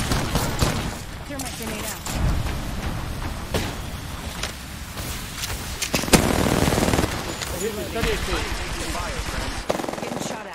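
Video game gunfire in a shooter match, with bursts of rapid automatic fire and single shots recurring throughout, loud and dense, mixed under frequent player talk.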